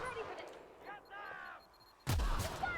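Grenade explosion in the video game The Outer Worlds: a sudden loud blast near the end, after softer game sounds and muffled voice-like noises.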